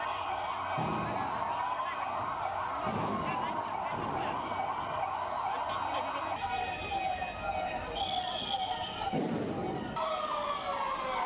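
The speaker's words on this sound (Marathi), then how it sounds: "सायरन वाजून मॉक ड्रिलला सुरुवात झाली।" A civil defence mock drill siren sounds over an outdoor crowd at a ground in Kalyan, with a steady wailing tone and background voices and traffic throughout.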